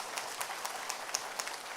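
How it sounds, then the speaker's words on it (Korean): Faint, steady clapping from an audience at a network-marketing seminar in a hall, a soft continuous wash of hands heard from a distance with no talk. "박수 쳐보세요."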